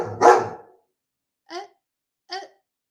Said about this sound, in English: Coco's out barking. So Princess Tia has always got to respond